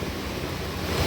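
Strong rushing river current on the way to Pintong Bukawi, a steady broadband roar of water with deeper surging swells toward the end, continuous and close with no voices.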